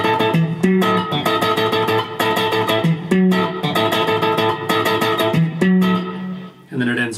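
A guitar plays measures 109 to 111 of a song, a live arrangement: a steady run of ringing, strummed chords with short bass-note movements, played alone and fairly close throughout.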